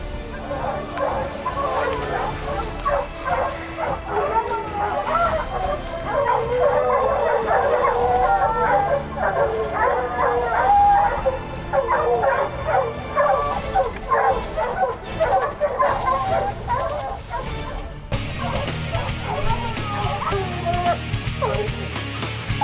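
Hunting dogs bark and yip repeatedly on a canyon wall during a mountain lion hunt in Utah, a busy, uneven chorus with occasional whimpers and howls and some faint voices mixed in.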